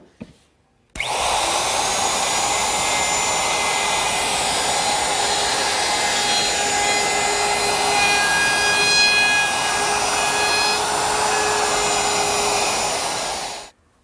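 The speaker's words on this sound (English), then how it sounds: "then I'll round them over using a 1/4 inch radius rounding over bit" A power router with a 1/4 inch radius round-over bit whines loudly and steadily for about thirteen seconds while rounding over wood edges, starting abruptly and cutting off at the end, its pitch wavering slightly as it works.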